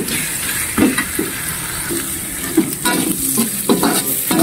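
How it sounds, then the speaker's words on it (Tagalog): Shallots frying in oil and being stirred until crispy, a steady close sizzle with scraping stir strokes and soft clunks recurring throughout. "Halain natin siyang mag-crispy po yung shallots natin."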